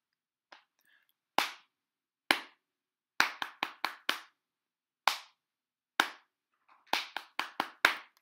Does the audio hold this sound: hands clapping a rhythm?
yes